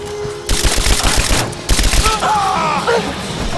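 Rapid gunfire bursts in the Rise of the Tomb Raider video game, two loud sustained volleys separated by a short lull, with voices speaking over the shooting.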